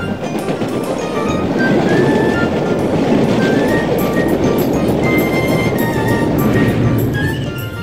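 A train rumbles past loudly and steadily, with a continuous roar and faint rail clatter filling the whole stretch.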